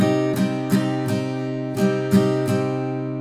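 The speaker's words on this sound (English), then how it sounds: "if you were strumming the chord with those directions," Guitar chord strummed in a steady down-up pattern, six bright strokes ringing into each other, close and clear with no voices.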